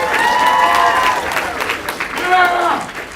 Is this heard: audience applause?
yes